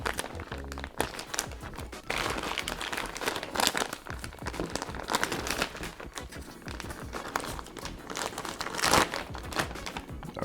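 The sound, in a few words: tearing open a military ration package at its tear notch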